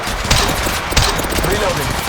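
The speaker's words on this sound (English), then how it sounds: "I'm taking fire." Gunfire in the mobile shooter Apex Legends Mobile comes in two sharp bursts over constant game noise, with a voice speaking throughout.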